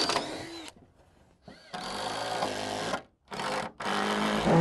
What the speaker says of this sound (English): now what I'm going to do is pre-drill and screw my panels in